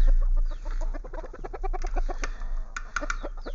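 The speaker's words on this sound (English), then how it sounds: "if you're hearing chirping from the inside," Young chicks kept indoors out of the cold chirp and peep close by in short, repeated calls, with a few brighter high chirps near the end.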